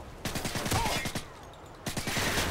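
M16 rifle fire in the Modern Warfare 2 video game: loud rapid bursts of gunshots in two volleys separated by a brief lull, close and dominant.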